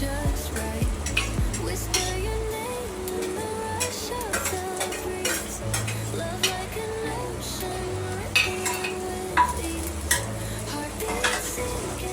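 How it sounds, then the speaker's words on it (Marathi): Chopped onion and tomato sizzle in hot oil in a pan for a spicy chicken gravy, while a spoon scrapes and clinks against the metal with repeated stirring strokes throughout. "तर याच्यामध्ये मी कांदा आणि टोमॅटो टाकून घेते।"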